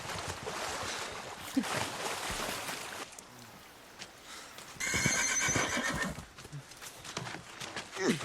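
A horse in a fantasy TV drama whinnies loudly, then its hooves clip-clop away amid action noise and a burst of hissing ambience, with no talk.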